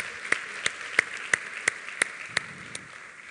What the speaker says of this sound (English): give yourself a big round of applause for coming out this morning